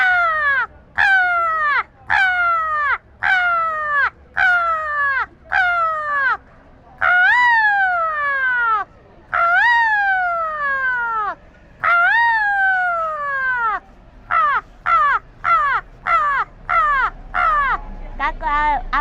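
A human voice imitates a crow cawing, giving a long run of harsh, nasal caws, some short and clipped and others drawn out, loud and close with brief pauses between groups.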